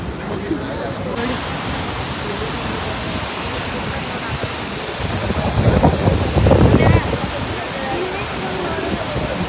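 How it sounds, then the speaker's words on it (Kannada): A waterfall near Belgaum gives a constant broad rushing roar, with wind buffeting the microphone and a busier surge partway through; faint voices of a crowd blend into the noise. "ಫೈನಲಿ ಫಾಲ್ಸಿಗೆ ಬಂದಿದ್ದೀವಿ ನಾವು."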